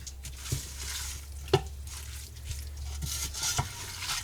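A pot of homemade garden vegetable pasta sauce with tomatoes is stirred, giving soft wet swishes and a few sharp utensil knocks against the pot over a low, steady background.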